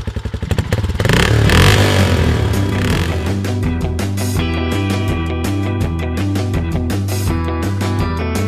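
A motorcycle in the Sakura School Simulator game pulls away, with a few rapid starting clatters followed by a loud steady engine drone that holds evenly to the end.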